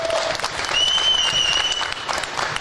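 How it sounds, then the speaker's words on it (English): A press conference audience applauds and cheers in a brief, dense burst, with a faint tonal whine running through it. "So again, just one more round of applause for everybody."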